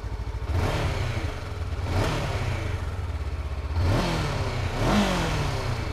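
A Honda CBR500R motorcycle engine revved up close, idling with a steady throb between several quick rising blips of the throttle, each climbing sharply in pitch and then dropping back to idle.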